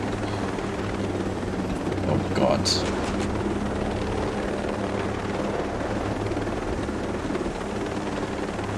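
A helicopter in the video game Ghost Recon Breakpoint flies with a loud, continuous rotor roar and whine throughout, while a man exclaims briefly over it.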